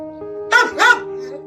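A rescued ten-year-old dog that once lived on a chain gives two quick, close, sharp barks with a faint whimper after them. A steady low electrical hum runs underneath.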